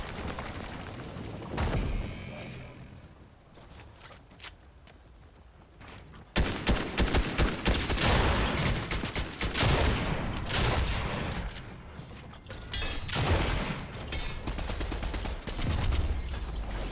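Fortnite gunfire crackles in bursts, starting sparse and then turning into dense, sustained volleys of shots and thumps that stay loud and close with only brief lulls.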